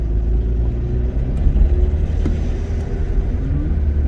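Rover 25 engine running at low revs around 1500 RPM, a steady, heavy low rumble up close with little change in pitch.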